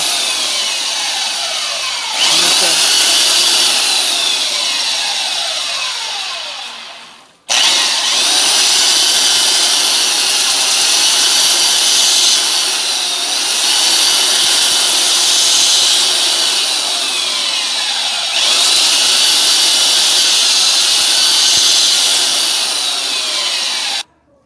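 Belt sander grinding a freijó wood phone case, loud and close, in three long sanding passes separated by brief pauses, with a steady abrasive whir and no talking.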